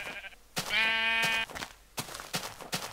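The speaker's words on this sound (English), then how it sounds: "I just saw a sheep. There's a sheep." Sheep in the Minecraft video game bleat in a loud, close, wavering call, followed by several short clicky impacts and game sounds, with no talking.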